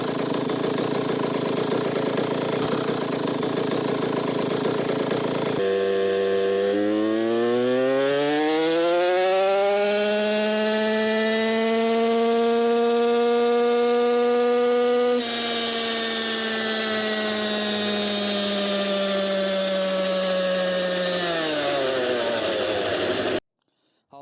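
A KTM SX85 motorcycle engine from 2024 runs on a dyno, revving up from idle to a high sustained pitch, holding, then dropping back, loud and close.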